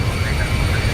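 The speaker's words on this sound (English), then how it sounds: "And here's your flyby." Simulated airliner flyby in X-Plane 11, a 737 passing overhead, heard as a steady broadband engine roar with a heavy low rumble, close and continuous through the short moment, with faint radio-style voices mixed underneath.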